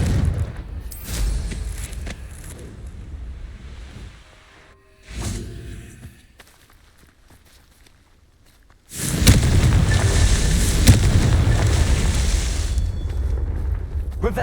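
Confringo fire-blast spell in Hogwarts Legacy sets off booming explosions with whooshes, followed by a long, loud, roaring rumble of fire and blasts that fills the final seconds.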